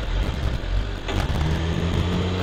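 A car engine revs hard in high gear, loud and close, holding a dense roar with a brief surge near the midpoint, with no talking.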